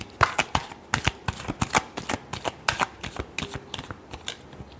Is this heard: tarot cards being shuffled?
yes